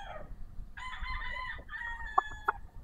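Red Kelso gamefowl roosters on a farm: a full cock-a-doodle-doo crow rings out fairly near, followed by a few short sharp clucks and calls.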